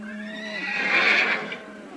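A horse, restless at a night camp, lets out a single loud, close whinny that rises and trails off over about two seconds.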